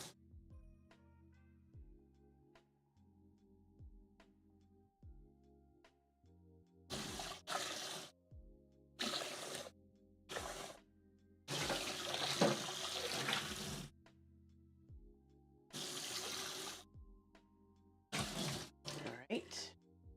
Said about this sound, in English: Let me go ahead and rinse this bowl out.